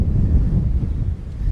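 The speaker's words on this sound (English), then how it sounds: "The wind you can hear just proves how chilly-willy it is." Cold wind buffets a handheld microphone outdoors on a fossil hunt, a loud, continuous low rumble and roar with no voices.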